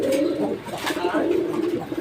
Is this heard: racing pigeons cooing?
yes